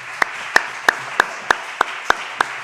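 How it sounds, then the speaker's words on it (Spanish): At the close of a session, a single pair of hands claps at a steady even rhythm, about eight sharp, distinct claps over a quiet room background. "de nuevo le damos un fuerte aplauso"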